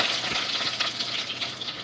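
Mustard seeds splutter and crackle in hot coconut oil in a pan, a dense close sizzle with small pops scattered throughout and no talking.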